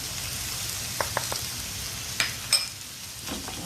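Eggplant cubes and courgettes frying with onions in a pan give a steady, close sizzle, broken by a few light clinks and scrapes scattered across the clip.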